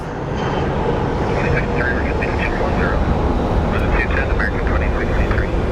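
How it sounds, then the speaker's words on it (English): Embraer E175 jet departing Phoenix Sky Harbor for San Luis Obispo: a loud, sustained engine roar with a steady broadband rush, while voices murmur in the background. "up next is an Embraer E175 headed to San Luis Obispo"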